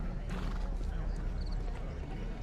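A horse in the video game Sherlock Holmes The Devil's Daughter whinnies over a steady bed of street ambience and clip-clopping hooves, mid-distance and moderately loud.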